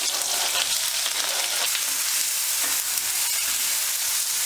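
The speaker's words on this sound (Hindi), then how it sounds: "इसमें डाल देते हैं जीरा 1 छोटी चम्मच, 2 तेज पत्ता, 2 बड़ी प्याज को फाइन चॉप करके डाल रहे हैं।" Finely chopped onions, cumin seeds and bay leaves fry in hot oil for a lauki kofta gravy, a loud, steady, close sizzle with faint scraping and stirring and no talking.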